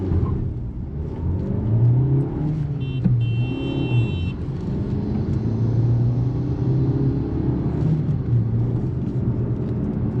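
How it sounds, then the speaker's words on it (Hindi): A 2026 Maruti Suzuki Fronx Delta Plus accelerating at full throttle on the road, a loud continuous engine drone rising in pitch through the gears with steady road rumble, heard from inside the cabin. "स्टार्ट करेंगे इसका एक्सेलरेशन टेस्ट फुल, यहाँ पर इसको थ्रॉटल पे टेस्ट करेंगे"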